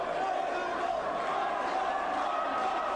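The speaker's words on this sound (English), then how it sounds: "The crowd get behind big Bob Mirovic here" A boxing crowd inside the marquee at the Nürburgring cheers during a heavyweight bout between Nikolai Valuev and Bob Mirovic, a continuous roar of voices heard from within the audience, steady and fairly distant.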